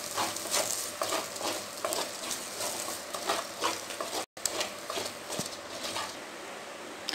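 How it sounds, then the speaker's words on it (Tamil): Drumstick leaves (murungai keerai) with ground paste sautéing in a pan for thuvayal, giving a steady close sizzle with repeated stirring scrapes and clicks and a brief dropout midway. "இருந்தாலும் ஒரு 2 நிமிஷம் வதக்கி எடுத்துக்கலாம்."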